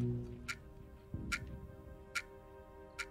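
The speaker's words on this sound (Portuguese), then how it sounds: "Que relógio é esse?" In the survival strategy game Homeseek, a clock ticks quietly over a low in-game hum, four sharp, evenly spaced ticks falling roughly every 0.85 seconds, with no talk over them.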